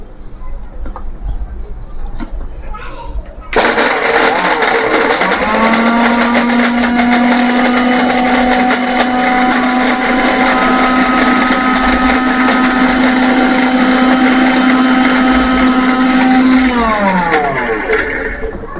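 A Bhima Gold mixer grinder with a small jar grinding coconut starts abruptly into a loud, steady high-pitched motor whine that holds for several seconds, then winds down near the end.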